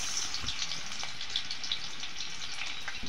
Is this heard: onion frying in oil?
yes